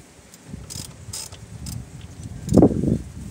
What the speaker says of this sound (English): all you do is take your socket,